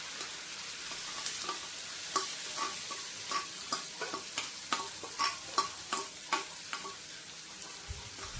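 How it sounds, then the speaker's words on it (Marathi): Crushed chili thecha sizzles in oil on a tava griddle while a spatula stirs and scrapes it in regular, crisp strokes over a soft, constant frying hiss, with no voices. "आता तव्यावर तेल टाकून ठेच्याला तळून घ्यायचं आहे।"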